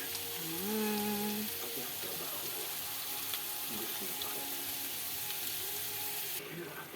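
Water and soy sauce go into a hot pan of pancit, giving a steady close sizzle with light liquid pouring and stirring noises throughout, plus a brief voice-like tone early on.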